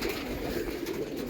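Pigeons in a loft of several hundred birds coo softly in a low, steady murmur, faint and somewhat distant, with no talk.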